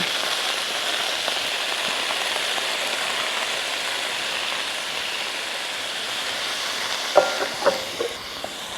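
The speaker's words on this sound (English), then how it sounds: "I'm gonna add my leeks directly in. Careful, they're wet, it's gonna sputter a little bit." Wet leeks sputter and hiss steadily as they fry in oil in a pot, with a few sharper pops near the end.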